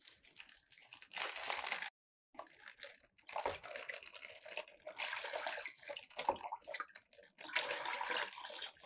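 Colored water squirts out through several holes poked in a filled polythene bag, a steady close splashing and hissing spray with a crinkle of plastic, broken by a couple of short pauses, with no talking.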